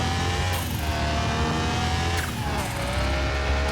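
A turbocharged car engine in the Car Mechanic Simulator game roars loud and steady, with pitch shifts from gear changes or throttle near the start and again partway through, and no talking over it.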